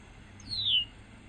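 A single sharp descending whistle from a red-winged blackbird, its call note, clear and alone against faint background hiss.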